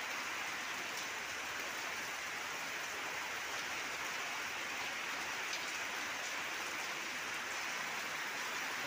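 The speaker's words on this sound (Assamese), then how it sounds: "এয়া বৰষুণ।" Steady rain falling on an open home courtyard, a dense even hiss of drops striking wet ground and pooled water, continuous and close with no voices.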